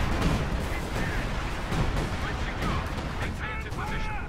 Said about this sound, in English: he in fact drops 105 howitzer barrage